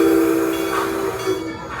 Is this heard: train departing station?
yes